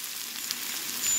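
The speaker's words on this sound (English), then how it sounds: "it's sizzling, okay?" Salmon with tomatoes and yellow squash sizzles steadily in a pan, a soft, even frying hiss heard alone for a brief moment.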